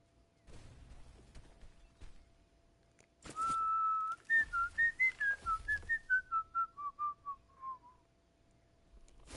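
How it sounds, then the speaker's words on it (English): A person whistles close by: one long held note, then a quick run of about a dozen short notes that rise a little and then step downward. "Can you guys hear my whistling or no?"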